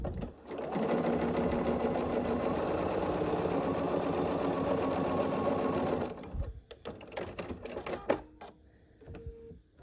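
A sewing machine stitches quilt block pieces for an evergreen tree block, humming in a loud, steady close run for about six seconds before stopping, followed by a few soft handling clicks and rustles.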